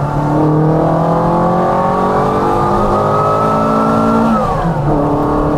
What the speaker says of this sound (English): This thing just wants to rev to the moon.